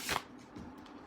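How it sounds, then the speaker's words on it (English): A single quick riffle of tarot cards, a crisp burst of papery flutter followed by soft handling noises, close by. "I like to shuffle them again after the energy of the reading comes out"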